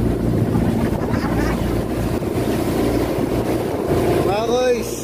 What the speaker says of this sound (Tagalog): talagang umuuga ang aming sinasakyang bangka